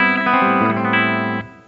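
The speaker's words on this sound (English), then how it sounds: "Clean channel, no pedal." Electric guitar on an amp's clean channel with no pedal, a sustained bright chord with a few overlapping notes ringing for over a second before fading, close and alone.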